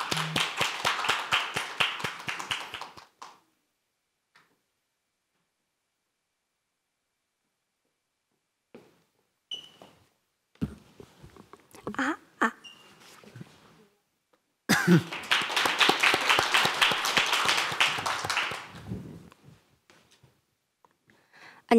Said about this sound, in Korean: 연설을 박수로 들어보겠습니다.